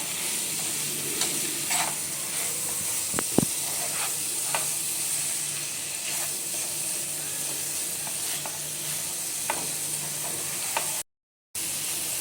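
Coconut rice (narali bhat) with nutmeg and cardamom powder is stirred in a hot pan, giving a steady, close sizzling hiss broken by a few soft spoon scrapes and one sharp knock.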